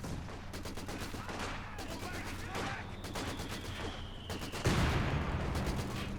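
Mortar barrage in Company of Heroes 2, a 2v2 match, with repeated rolling blasts and crackling gunfire over dense battle noise, a heavier impact landing near the end.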